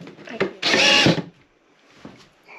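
A power drill drives screws under a counter inside a DIY camper conversion, one loud burst of about half a second standing out between quieter handling noises and faint talk.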